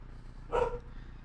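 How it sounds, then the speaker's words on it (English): A single short dog bark in the background of a home setting, brief and moderately faint against low room noise. "apologies for my dog in the background"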